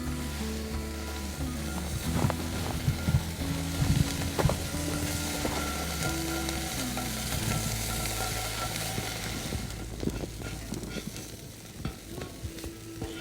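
Burbot livers frying in a very hot, dry pan, a steady loud sizzle with crackling pops of bubbling fat and occasional stirring clatter, continuous and close.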